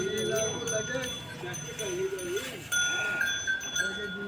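Young goat kids bleating, several short wavering bleats close by in quick succession over a quiet farm background, with a faint steady tone throughout.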